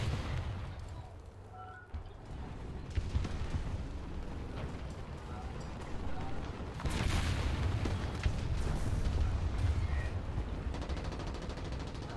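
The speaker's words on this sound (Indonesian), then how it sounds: "Tengoklah banyak bom di depan" Bomb explosions in War Thunder rumble through a tank battle, a dense, continuous low boom that swells louder around the middle and stays heavy to the end, with faint talk in the background.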